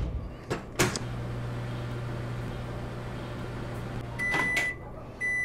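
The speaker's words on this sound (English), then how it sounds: "We can put it in the microwave." A microwave hums steadily in the Job Simulator video game, a constant low drone framed by clicks of the door opening and closing and ending in bright completion beeps.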